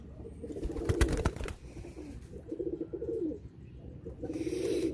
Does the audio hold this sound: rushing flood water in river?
no